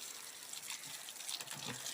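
Water pours steadily into a container beside a mesh strainer outdoors, a continuous gushing splash with no voices over it.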